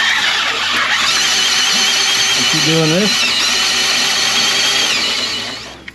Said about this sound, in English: start with a drill. We got like a metric 7mm drill bit in there